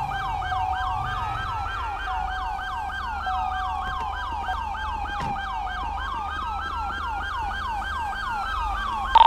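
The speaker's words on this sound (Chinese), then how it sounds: "是警笛系统坏了，那台车的警车警笛系统坏了" A police car siren in GTA 5 with the LSPDFR mod, stuck on and unable to be switched off, cycles continuously in a loud, rapid wailing yelp with no other sounds.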